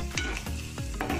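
Spice mixture of Kashmiri chili and garam masala frying in a pan for chicken kofta curry, with three or four distinct scraping stirs over a steady close sizzle.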